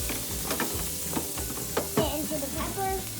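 Food being shaken and stirred in a hot frying pan, with spice such as pepper sizzling, steady frying crackle broken by several sharp scraping and clattering jolts of the pan, close up.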